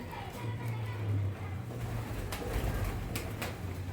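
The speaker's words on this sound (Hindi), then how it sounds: "ये मोतियों वाला कबूतर है।" Pigeons coo close by, including a pearl pigeon and a Sialkoti female, low rolling calls repeating through a few seconds over steady background noise and faint clicks, with no one talking.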